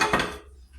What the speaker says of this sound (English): I'm gonna use the same frying pan.